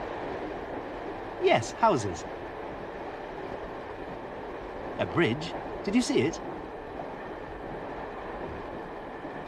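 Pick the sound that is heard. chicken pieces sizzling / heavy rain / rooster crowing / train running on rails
train running on rails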